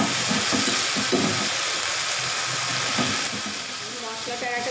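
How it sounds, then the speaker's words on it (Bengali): Ginger and cumin paste frying in a pan with potatoes: a steady hiss and sizzle with occasional scraping stirs of a spatula, close and continuous. "দিয়ে আমি একটু নেড়ে নিয়ে এর মধ্যে এই আদা বাটাটা আর জিরে বাটাটা দিয়ে দিলাম।"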